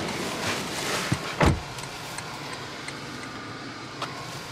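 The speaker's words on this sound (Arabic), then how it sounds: "عندنا الزجاج بالكامل اوتو لمسة واحدة" The one-touch power window of a 2022 Toyota Land Cruiser GXR moving inside the cabin: a quiet electric motor whir with a soft thump near the start, plus faint clicks, alone without talk.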